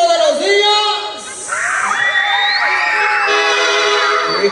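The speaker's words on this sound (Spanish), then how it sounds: "¿Dónde está el grito de los niños?" A crowd of children shouting and whooping together at an anniversary party in Yosoyuxi, loud and sustained over several seconds, with a voice calling out through an amplified system among the cheering.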